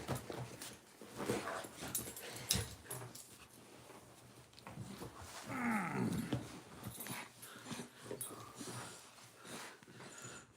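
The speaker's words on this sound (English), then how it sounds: "This is my mom's dog." A dog snorts, whimpers and growls softly up close, with sniffing and shuffling sounds scattered throughout.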